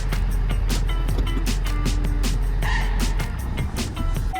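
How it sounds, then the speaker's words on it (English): Throttle blips on a Honda Civic bring up a low intake growl and engine hum at close range, with small rising and falling swells and faint clicks, and no talk over it. "Oh, you can hear that intake."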